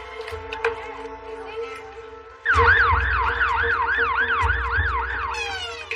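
An ambulance siren starts up mid-clip and wails loud and close in a rapid rising-and-falling pattern, with steady engine and traffic rumble beneath and fainter siren-like tones before it.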